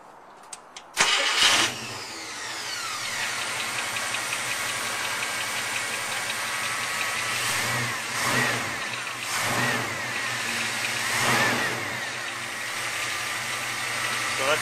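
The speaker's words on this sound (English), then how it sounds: "that's pretty much sounding like a stock 345 with some Stan's headers on it" An International Scout II's 345 V8 fitted with aftermarket Stan's headers, with an exhaust chirp after the header install, cranks and catches, then settles into a loud, close, steady idle with a few gentle swells in revs.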